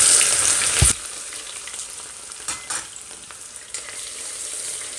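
Hot oil sizzles in a pan while beef nihari is being cooked, a loud spattering crackle at first that drops to a softer steady fry with occasional pops, with no voices over it.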